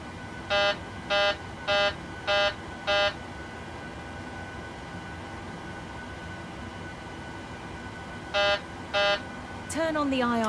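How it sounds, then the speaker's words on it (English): Boeing 737 cockpit takeoff configuration warning sounding as a series of five evenly spaced, loud intermittent horn beeps, a pause, then two more, over steady cockpit fan hum. "Takeoff configuration alarm test."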